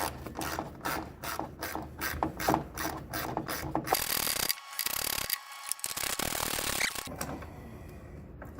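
A ratchet wrench with a 10 millimeter socket clicks in quick rhythmic bursts of sharp pawl ticks, close and fairly loud, while fastening a mini fender on a Chevrolet Express van conversion, followed by scraping handling noise.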